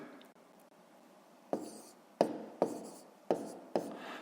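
Pen or pencil writing numbers on paper while working a column multiplication of decimals, heard as five short scratchy strokes in quick succession against a quiet background, with no talking.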